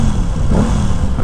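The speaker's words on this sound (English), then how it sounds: "A growl, you know. Sounds very similar to the V4 engine." A close, steady low engine growl from a 2021 Aprilia Tuono 660 motorcycle's parallel-twin engine, rumbling evenly throughout the short moment with no voices.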